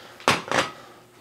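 A plate is set down beside a carbon steel pan on a stovetop, making two quick, close clinks of crockery against metal in rapid succession, then quiet.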